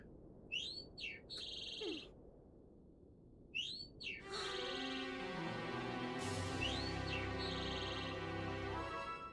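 Small birds in a video game give a few quick, bright chirps in short bursts against quiet. A loud, steady electronic tone then rises and drowns them, with faint chirps still coming through.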